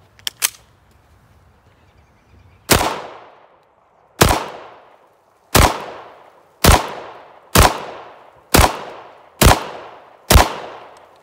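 Smith & Wesson Shield EZ 9mm pistol fires eight loud, sharp shots at an outdoor range, spaced roughly one to one and a half seconds apart, each with a brief ringing tail, after a few faint clicks at the start.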